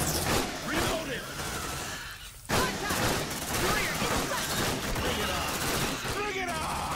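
Sustained volleys of gunfire in the Aliens: Dark Descent video game, dense and rattling, with a brief lull midway, mixed with mechanical clatter and voices speaking over the shooting.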